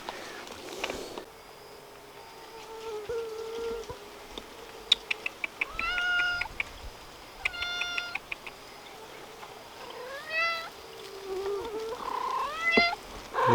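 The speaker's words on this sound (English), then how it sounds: "Jungle homestead cat." A homestead cat in a jungle setting meows several times at close range, sometimes in short stuttering bursts, with a soft purr running between calls over quiet background.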